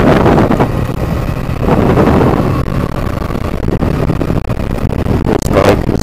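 A 2010 Triumph Bonneville T100 motorcycle rides along with heavy, loud wind buffeting the microphone and the engine droning steadily underneath throughout.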